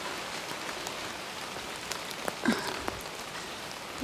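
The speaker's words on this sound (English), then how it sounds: "it started raining" Steady rain falling on a cold mountain hiking trail, an even close hiss of drops with scattered sharper drips and one brief squeak near the middle.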